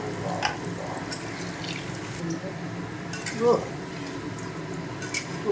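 Kofta balls frying in a pan give a steady, soft sizzle with a brief louder burst midway, and a voice talks over it.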